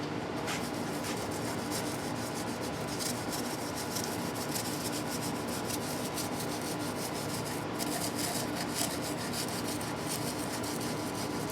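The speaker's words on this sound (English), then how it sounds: "Toothbrush action. There's the toothbrush." A toothbrush scrubs a Carvin DC145 guitar during a string change, making a steady, close scratchy rubbing with quick repeated strokes at a low, even level.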